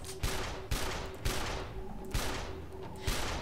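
Shotgun blasts in the video game Tribes Ascend, about five loud, evenly spaced booms over a constant roar of in-game noise.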